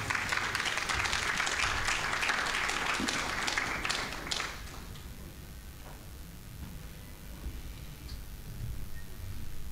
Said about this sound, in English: Can you give him a round of applause, please?